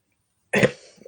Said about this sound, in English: I cannot get rid of this stupid cough.